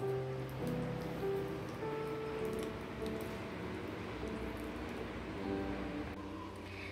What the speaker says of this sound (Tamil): இப்போ கொதி வர ஆரம்பிச்சிருச்சு